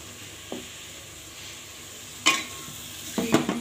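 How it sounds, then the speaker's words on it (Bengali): Curry frying in a pan and being stirred just after salt is added, in home cooking: a quiet, steady sizzle under a few short scraping stirs, with no talking. "লবণ দিয়ে দিলাম, ভালোভাবে কষিয়ে নেব।"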